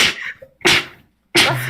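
A few sharp, explosive sneezes, close to the microphone, separated by brief pauses, no speech.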